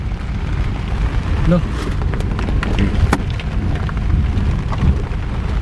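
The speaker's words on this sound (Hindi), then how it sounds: "ये देख लो आप, बारिश हो रही झमाझम।" Heavy rain pours during a jungle safari in Jim Corbett, a dense close roar of drops on surfaces with scattered sharper splashes, while someone talks over it.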